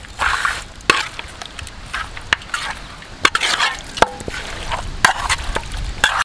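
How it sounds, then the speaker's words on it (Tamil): Chicken being stirred and mixed by hand with home-ground masala powder and rock salt in a village kitchen, giving close, continuous wet rustling and scraping with sharp clicks against the bowl, and no talking. "சிக்கனில் மசாலாலாம் போட்டு கலக்கியாச்சுங்க."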